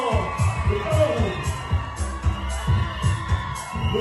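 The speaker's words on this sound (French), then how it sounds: "Le maximum de bruit pour les nouvelles. Applaudissez s'il vous plaît." At a beauty pageant celebrating African cultural heritage and the diaspora, a crowd cheers and whoops for a contestant over pounding low beats. The noisy roar of voices and shouts stays loud and constant throughout.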